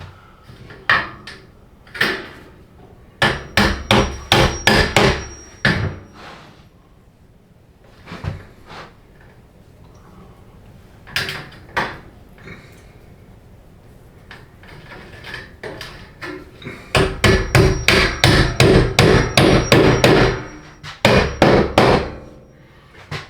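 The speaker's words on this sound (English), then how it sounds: "These are ring-shanked sheetrock nails that I'm using to nail this in place." Ring-shanked nails hammered into sheetrock: bursts of sharp, loud, ringing hammer blows in quick rhythmic runs, with scattered single strikes and pauses between groups, close by and without talk.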